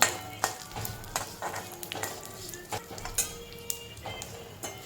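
A spoonful of sesame seeds sautéing in a pan over a low gas flame, with soft continuous sizzling, light crackles and occasional stirring scrapes throughout.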